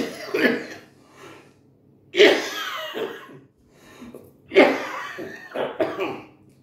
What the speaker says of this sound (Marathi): सॉरी मला थोडा खोकला झालेलाच आहे